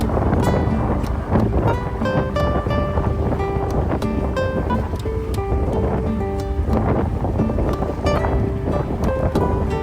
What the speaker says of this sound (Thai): เสียงลมพัดค่อนข้างแรงนะครับ